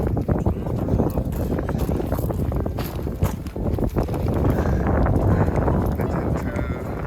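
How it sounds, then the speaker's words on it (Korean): Strong wind roars and buffets a camping tent at a winter campsite, a loud, continuous gusting rush with rumbling flaps throughout. "바람이 너무 불어."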